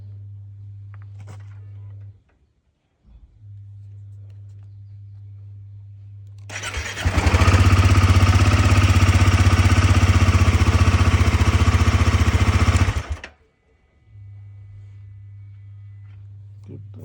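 A rental motorcycle with about 21,000 km on it in Leh cranks and fires into a loud, rough roar for several seconds, then cuts back to a low steady hum.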